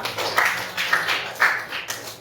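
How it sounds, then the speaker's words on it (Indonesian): Classroom students clap their hands together, a steady, fairly quiet patter of many overlapping claps lasting a couple of seconds with a few louder swells. "yuk tepuk tangan buat kita semua"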